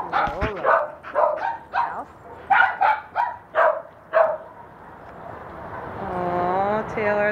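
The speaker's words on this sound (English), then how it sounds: "Oh, Taylor, that little puppy is just too cute." A puppy yips and barks in a quick series of high, sharp barks, then lets out a drawn-out whining howl, close by.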